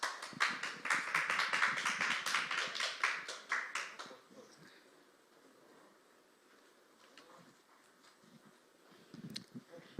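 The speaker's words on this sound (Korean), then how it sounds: "큰 박수 부탁드리겠습니다." At a supported-housing conference session, an audience gives a few seconds of brisk clapping to welcome the session chair; it stops abruptly, leaving a quiet room with faint scattered taps and soft movement.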